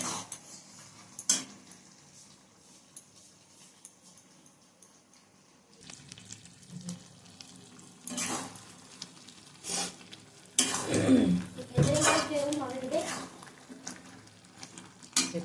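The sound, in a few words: cooking jujube pickle in a pan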